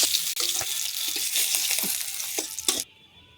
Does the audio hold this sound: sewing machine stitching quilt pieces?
no